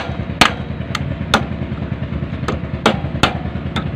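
A hammer raps the starter of a fuel-injected Honda Beat scooter with a rough-starting fault: about seven sharp, close metallic knocks at uneven intervals over a low, steady hum.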